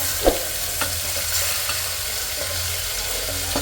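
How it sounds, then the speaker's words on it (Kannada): Pumpkin pieces sauté in tempering oil for curd sambar, a steady close sizzle with occasional stirring knocks against the pan, no voices. "ಈ ಕುಂಬಳಕಾಯಿನ ಸ್ವಲ್ಪ ಒಗ್ಗರಣೆಯಲ್ಲಿ ಬಾಡಿಸ್ಕೊಂಡ್ರೆ"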